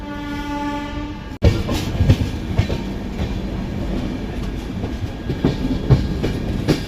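The Golconda Express rolling along the rails, heard from aboard as a loud, steady rumble with rhythmic clickety-clack. A sustained horn sounds at the start before cutting off abruptly, and the wagon noise continues after it with no talk.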